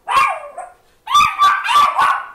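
Several dogs bark at the door of a home, a short yelp followed by a pause and then a run of four loud, close barks in quick succession.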